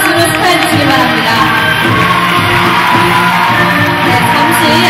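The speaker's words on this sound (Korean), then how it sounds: "힘찬 박수로 축하해주시기 바랍니다." A loud crowd at the 15th Yu Gwan-sun Award ceremony bursts into clapping mixed with whoops and shouts, a dense and continuous wash of sound that fills the hall for several seconds.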